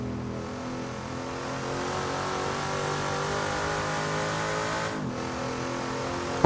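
A BMW racing car engine in a sports car racing game holds a steady high rev for several seconds, briefly dipping near the end as it shifts, then resumes its smooth continuous drone with no voices.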